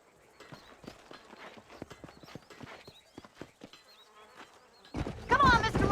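Horse hooves clip-clop steadily in the Western video game Red Dead Redemption, a near, rhythmic run of hoof strikes with faint insect buzzing, before a louder burst of noise near the end.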